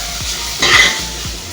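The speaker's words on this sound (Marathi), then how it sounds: "मस्त सगळं मिश्रण हे एकजीव करून घ्यायचंय।" A spoon stirs a Marathi kolambi bhaat (prawn rice) mixture with chopped coriander in a hot pan, giving a close scraping swish over a steady sizzle, with a brief, sharper scrape partway through.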